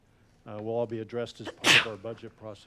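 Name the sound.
sneeze during a council meeting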